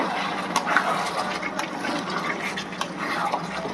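Water poured into a bowl to rinse off clinging curry for a coriander chicken dish, a continuous close splashing gush that stays fairly even throughout, with no voices.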